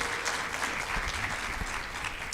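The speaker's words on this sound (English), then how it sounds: "Give them a round of applause for this session." Steady applause from a conference audience at a session on Rwanda–Sweden research cooperation, dense and continuous for a couple of seconds with no talk over it.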